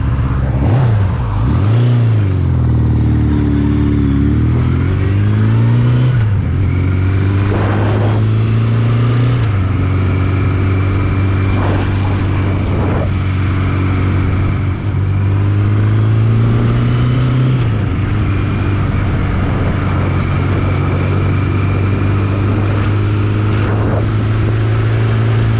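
A car engine droning loud and close throughout as it drives across a road into a back street, pitch rising and falling with a few revs and gear changes, no talking.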